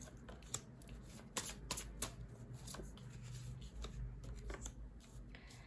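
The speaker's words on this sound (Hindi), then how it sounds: "और कुछ कार्ड्स निकाल रही हूँ आप लोगों के लिए" Tarot cards being shuffled and drawn by hand, with quick riffling and snapping bursts, soft rubbing and slides, close and fairly quiet with no talk.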